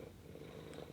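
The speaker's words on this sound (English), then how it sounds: "If you hear my cat purring over my," A house cat purrs faintly and close by in a quiet room, a soft, steady rumbling throughout with no talking.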